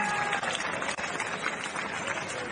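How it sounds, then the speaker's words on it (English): A crowd at a women's professional boxing match in Mexico, Erika Cruz versus Melissa Esquivel, applauds and cheers in a steady, washing roar from a distance, with arena noise throughout. "Another big round of applause."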